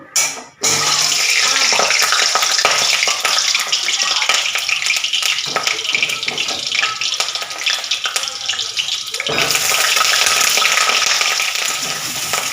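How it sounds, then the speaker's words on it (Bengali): Potatoes and onions fry with whole garam masala, a loud close sizzle broken by a sharp burst at the start and a brief dip midway, with faint stirring and watery hiss throughout. "আলুগুলোকে ভালো করে ভেজে নিয়েছি গোটা গরম মশলা ফোড়ন দিয়ে পেঁয়াজ দিয়ে দিয়েছি পেঁয়াজটা একটু ভাজা হোক"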